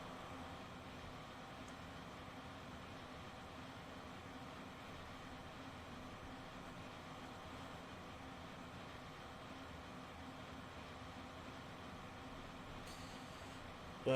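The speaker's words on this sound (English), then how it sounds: "But custom run sounds on the auxiliary train, though." German auxiliary train running on an alpine route in Trainz Simulator 3, with custom running sounds: a faint, steady rumble and hum that holds constant throughout, with no voices.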